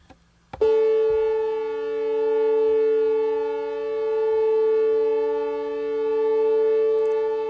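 A sustained instrument tone being tuned by ear, with slow beating swells in loudness that pulse at a steady, unhurried rate after a sharp attack, with no talking.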